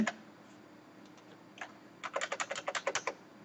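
Close computer keyboard typing for an email subject line, a few scattered keystrokes first and then a quick run of about a dozen crisp clicks near the end in a quiet room.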